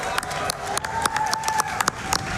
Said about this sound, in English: Can we get an extra round of applause?